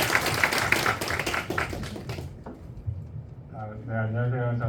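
Brief burst of audience applause at a conference, a patter of many hands that fades out within about two seconds, followed by a voice speaking.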